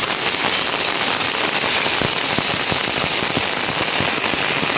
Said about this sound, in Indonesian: Hujannya makin deras teman-teman.